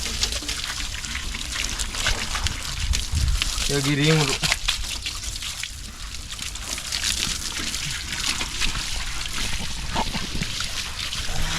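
Water pours and trickles over a vehicle being washed for a Dasara puja in a village, a steady splashing wash under people talking close by.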